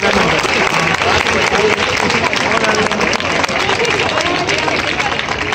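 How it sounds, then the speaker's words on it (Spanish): Audience at a cosplay contest clapping in sustained, dense applause, loud and continuous throughout with crowd murmur mixed in. "¡Un fuerte aplauso!"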